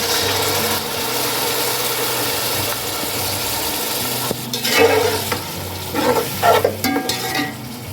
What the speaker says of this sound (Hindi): अदरक लहसुन को पकाने के बाद 2 मिनट मैंने अब यहाँ पे दही डाल दूंगी।